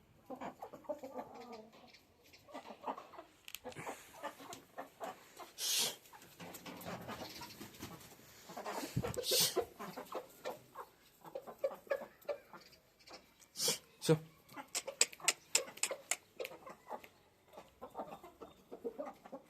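Chickens cluck and squawk in irregular bursts nearby, with a dog panting and a few sharp calls breaking through.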